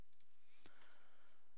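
Faint, close computer mouse clicks: a quick pair of light ticks followed by a sharper single click, in a quiet room with no talking.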